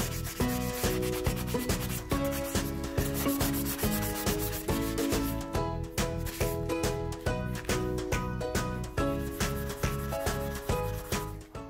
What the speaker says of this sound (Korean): 충분히 마른 후에 600방 정도 사포로 다시 한번 사포질을 해주세요